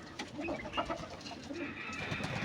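Soft, low cooing from Giribaz pigeons, faint and repeated in short murmuring phrases against a quiet background.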